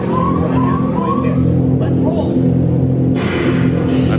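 Dinosaur ride vehicle at Disney's Animal Kingdom moves with a steady low rumbling drone and mechanical whir, joined by brief hissing bursts near the end.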